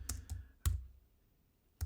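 Short bursts of keystrokes on a computer keyboard, two quick clusters then a sharp isolated strike and another burst after a pause, close and fairly quiet in a still room.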